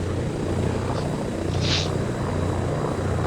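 Helicopter rotors spool up for lift-off in the video game ArmA 3: a steady, close engine drone with low rotor thrum holds throughout, a brief higher whine rising midway.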